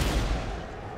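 Gunfire from shooting an enemy in the video game Escape from Butcher Bay, a dense, loud burst of shots running steadily through the whole moment, with a voice faintly mixed in.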